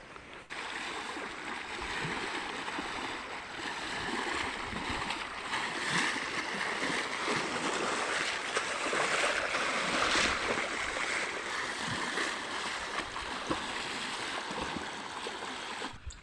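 Floodwater rushing through a swollen stream beside a fishing spot, a steady broadband roar with occasional splashes, loud and continuous throughout.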